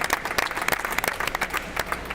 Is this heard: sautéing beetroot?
no